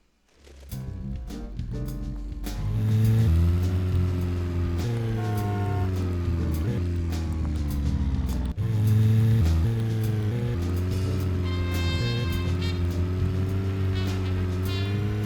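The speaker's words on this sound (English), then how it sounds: "I was not expecting driving in a horror game." Car driving in the horror video game Deadly Premonition, a steady engine drone with shifting tones and game music layered over it, holding at an even level throughout.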